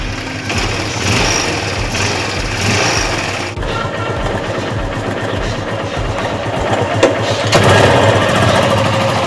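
A small motorcycle engine runs loud and close, kick-started, starting with quick rhythmic pulses and settling into a steady, rough drone.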